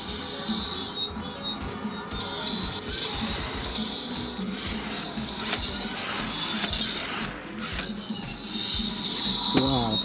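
A plastic toy lever pushed on a toy in a Tesco store, setting off rubbing, clicking and ratcheting mechanism noises, with a short squealing burst near the end over busy background sound.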